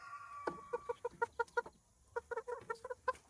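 Chickens cluck nearby in a rapid series of short, evenly spaced clucks, pausing briefly before another burst.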